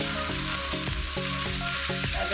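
Onion and carrot sautéing in a pan give a steady, loud sizzle with a few quick stirring strokes, close up and alone.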